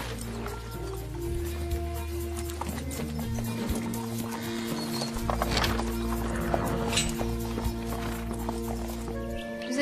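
Steady clip-clop of hooves plods along in an even rhythm, with a low rumble and occasional creaks in the background.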